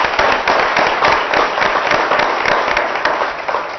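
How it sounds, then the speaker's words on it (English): A round of applause from an audience at an early childhood summit, dense rapid clapping from many hands, loud and sustained throughout, with no speech over it. "I think she deserves another round of applause."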